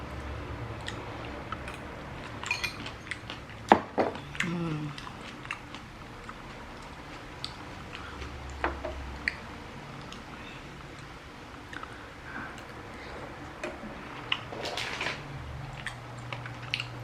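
Chewing of kimchi and spicy Korean rice cakes (tteokbokki), close and quiet, with soft squishy bites and small wet clicks spread irregularly through the stretch, no talking.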